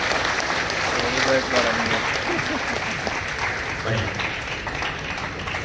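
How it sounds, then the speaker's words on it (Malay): A mosque audience at a Nuzul Quran religious lecture breaks into thunderous applause, steady dense clapping throughout, with a voice briefly speaking over it. "bagi tepukan gemuruh untuk tuan-tuan sebagai mujahid"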